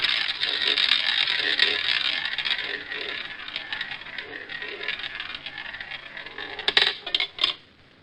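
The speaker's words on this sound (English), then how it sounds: "Please spin the wheel." A spinning roulette wheel whirs with a continuous ratcheting rattle as the ball runs around the rim, then clatters loudly in a few sharp hits as it drops and settles near the end.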